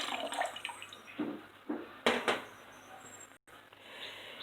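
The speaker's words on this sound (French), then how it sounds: "vous allez placer une marmite sur le feu et vous allez tout simplement renverser votre eau de riz" Rice water poured from a container into a cooking pot on the stove, a close splashing pour in several uneven gushes with brief pauses between them.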